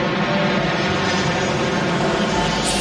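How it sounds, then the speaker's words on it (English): Jet engine roar from the visual novel game White Album 2, a dense, steady, loud rushing drone filling the whole clip with no pauses. "Sounds like a jet engine falling out of the sky."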